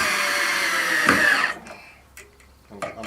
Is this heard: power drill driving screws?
yes